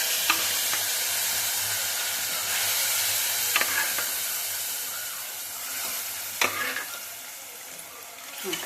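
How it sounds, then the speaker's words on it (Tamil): Amaranth greens dal is poured into a hot tempering, bursting into a loud, continuous hissing sizzle that carries on for several seconds, with a few clinks and scrapes and no voices. "இப்போ நம்ம கீரை, இந்த கீரையை ஊற்றிக்கணும்."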